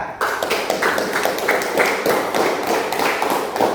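Students in a classroom clap together in a steady patter of many hands, fairly close and lasting a few seconds without talk.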